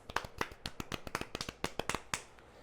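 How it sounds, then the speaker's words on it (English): Light, scattered golf clap of a few hands tapping together, a quick run of soft individual claps fairly close and quiet, with no talking. "Golf clap."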